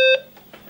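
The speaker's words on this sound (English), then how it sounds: "I'm going to start this up. Listen to the wonderful tone." A BBC Micro home computer with 32K and Acorn DFS gives its startup beep: one loud, clear electronic tone lasting a fraction of a second, then a quiet room.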